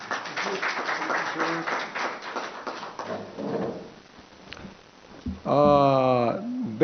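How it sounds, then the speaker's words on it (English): An audience claps for a speaker at a public education session. A thin patter of clapping fades after a few seconds, then a voice speaks up loudly near the end. "Please clap him."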